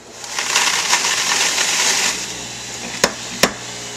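A juicer grinds and presses fruit pulp with a steady, close whirring crunch for about two seconds, then fades, followed by two sharp knocks.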